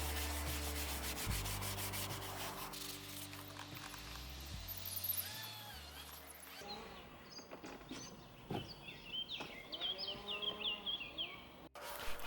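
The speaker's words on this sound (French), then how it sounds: "Brosse à poil fin et souple, dégraissant, pas trop puissant, et un coup de chiffon après avoir bien agité la crasse." A soft fine-bristle brush with degreaser scrubs grime inside an Aston Martin DB7, giving rhythmic rubbing strokes that shift to lighter, quicker brushing, with faint bird chirps in the background.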